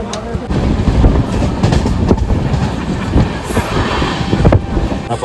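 Steady rumbling rail noise with rhythmic clacks from a moving Konkan Railway Jan Shatabdi train, continuous and fairly loud throughout, with some wind buffeting.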